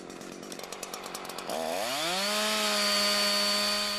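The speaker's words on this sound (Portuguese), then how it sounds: "Comece a serrar de baixo para cima até 1/3 do diâmetro do tronco ou até notar que a lâmina tende a ficar presa." A chainsaw cutting through a log, sawing from the underside upward, sounds close and loud. Rhythmic buzzing bursts give way to a rising, sustained high-pitched engine whine with no speech.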